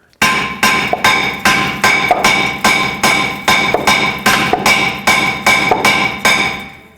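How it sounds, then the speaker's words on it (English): A hammer taps repeatedly on a seized front brake rotor of a 2011-2014 Hyundai Sonata, about fourteen sharp ringing metallic strikes at a steady rhythm, loud and close with no talk. "we'll use a hammer and just tap it till it comes free"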